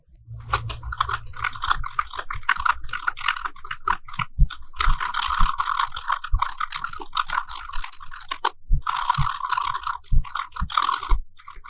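Fingers type on a computer keyboard while entering data into an Excel spreadsheet, producing rapid, close clicking keystrokes in uneven bursts with brief pauses, punctuated by heavier key presses.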